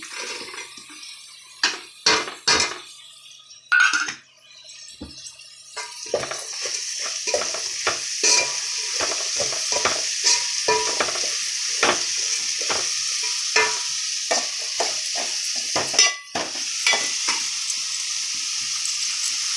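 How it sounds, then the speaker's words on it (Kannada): Onions frying in a pan with steady sizzling, while a utensil stirs and scrapes against the pan in repeated sharp strokes, close by. "ಈರುಳ್ಳಿ ಮಗ್ಗಿಸ್ತಿದ್ದೀನಿ."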